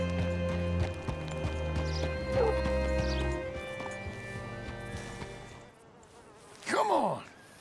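Horse hooves clip-clop in Red Dead Redemption 2 beneath a steady game music bed, giving way near the end to a brief loud swooping sound.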